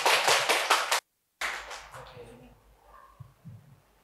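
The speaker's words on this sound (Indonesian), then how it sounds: "Boleh tepuk tangan yang meriah." Audience applause at a gathering on writing documentary film scripts about Acehnese oral tradition: dense clapping for about a second, a sudden cutoff, then the clapping returns and fades out to a quiet room with scattered sounds.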